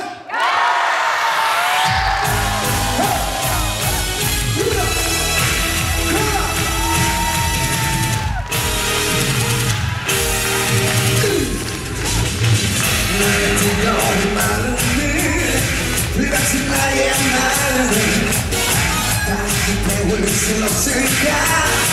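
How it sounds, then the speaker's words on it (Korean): A concert audience at Busan MBC Dream Hall gives a loud, roaring shout on cue at the concert. The crowd noise swells for a couple of seconds before band music and singing take over. "제가 하나, 둘, 셋 하면 여러분들이 함성 한번 크게 질러주세요"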